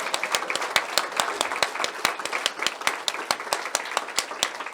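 Steady audience applause at a university teaching and learning center grand opening, many hands clapping at once, sustained and fairly loud throughout, without any voices over it.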